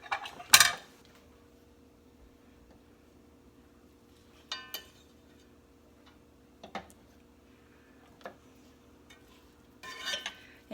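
Olive oil and butter are stirred in a pan: a few scattered scrapes and light metallic clinks at irregular intervals over a quiet background hum, fairly close and soft.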